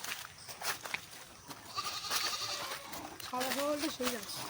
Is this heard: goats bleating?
yes